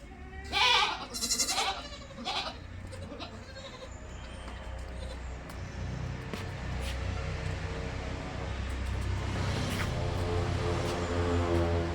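Crossbreed dairy goats bleat several times in quick succession near the start, loud and close, then a steady rushing background noise takes over.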